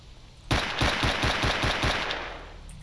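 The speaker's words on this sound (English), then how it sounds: "Some gunshots this direction." A rapid burst of automatic gunfire in the video game STALKER Anomaly, evenly spaced shots rattling for about two seconds, loud and close, then fading.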